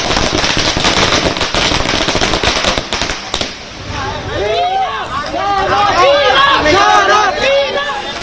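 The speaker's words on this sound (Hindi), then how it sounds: "जमकर पटाखे चले।" Firecrackers burst in rapid irregular volleys outside a house during a celebration, loud and crackling, with a crowd cheering and chattering underneath and whistling fireworks rising in the second half.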